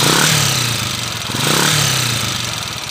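Motorcycle engine of an ice cream vendor, a red TMX155, idles close by with a steady mid-pitched putter that swells slightly in a slow cycle.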